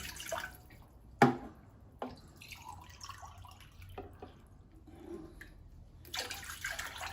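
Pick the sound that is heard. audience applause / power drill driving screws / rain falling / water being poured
water being poured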